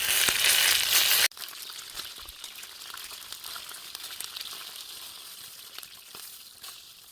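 Fresh green peppers, picked straight from the garden, crackle in a hot pan on the stove: a loud burst of sizzling at first, then a steady, quieter fry with small pops continuing throughout.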